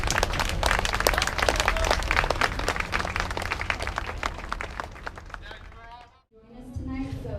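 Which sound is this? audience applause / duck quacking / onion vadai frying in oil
audience applause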